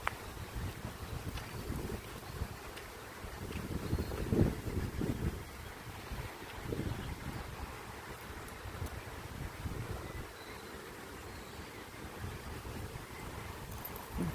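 Strong wind gusts and roars across the microphone for the whole stretch, swelling and easing with a rustling, blustery rumble.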